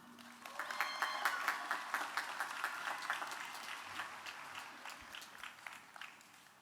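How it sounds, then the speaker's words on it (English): An audience at a 2024 college commencement ceremony applauds, a dense patter of many hands heard from a moderate distance, steady at first and gradually thinning toward the end. "Please let us have another round of applause for our cohort of doctoral degrees"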